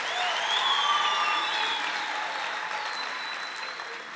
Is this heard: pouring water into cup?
no